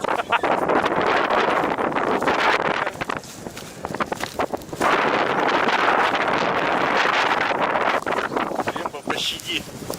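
Strong gusting wind buffets the microphone at a May float-fishing camp on the shore, a loud, continuous roar that barely eases around the four-second mark, with people talking underneath it.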